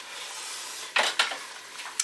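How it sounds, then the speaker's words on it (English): A spoon scrapes and clinks against a pan of chicken curry with tomato paste and potatoes, several quick stirring strokes over a soft sizzle, close and fairly quiet. "And then we give that a stir."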